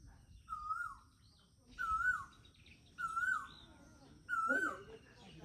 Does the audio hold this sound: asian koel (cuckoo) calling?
yes